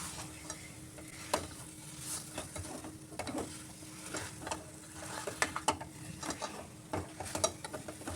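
Grated coconut is stirred into a thick date batter for khajur biscuits, heard as soft, close scraping and clicking of a spoon against the pan over a faint low sizzle, quiet and irregular.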